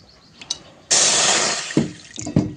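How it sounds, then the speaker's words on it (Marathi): Four bowls of water pour into a wok in a steady, loud rush for about a second, then taper off into a few clunks and splashes, with a faint drip just before. "आपल्याला आता चार वाटी पाणी घालून घ्यायचं आहे"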